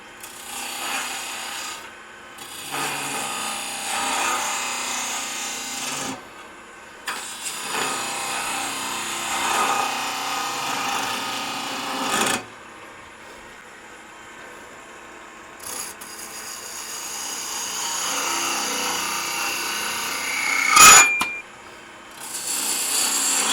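A bowl gouge scrapes into spinning wood on a lathe in a woodshop. Several raspy cutting passes of a few seconds each are broken by brief pauses, with a sharp knock near the end.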